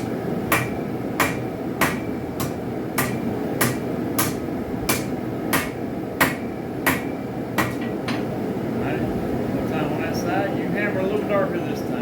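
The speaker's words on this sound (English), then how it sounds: "Remember, don't hit off the edge of the anvil. Make sure all your hits are on the anvil." Steady, evenly spaced hammer blows on an anvil while forging a spike knife from a railroad spike, sharp ringing strikes about twice a second over a loud forge roar, ending as the strikes stop.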